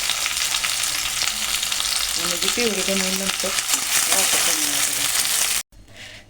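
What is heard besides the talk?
onion and tomato frying in a pan for a puree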